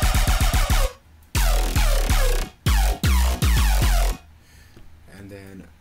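Layered color bass synth chords hit in choppy, rhythmic bursts with sharp pitch-dropping stabs, loud and up front, before cutting to a quieter tail of faint residual tones.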